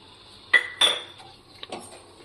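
Cashew and almond slivers tipped into wheat flour sheera in a pan: a few sharp metallic clinks of a spoon against the pan, then softer scraping, close and fairly quiet.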